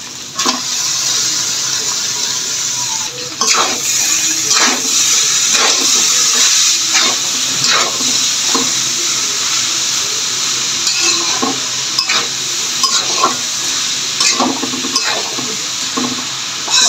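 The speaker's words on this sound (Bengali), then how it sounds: "এখন আমি এই যে কপিটা দিয়ে দিব।" Shredded cabbage hits a pan of hot spiced oil and sizzles loudly and continuously, with repeated scraping and clattering strokes of a spatula as it is stirred and mixed.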